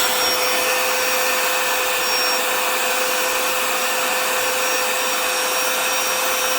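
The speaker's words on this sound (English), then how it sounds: "Blow it out this side, suck it in this side, and you can attach your attachments to either end." An electric air pump built into a camp light blows air continuously, a steady loud whirring motor hum with a high whine, alone and unchanging throughout.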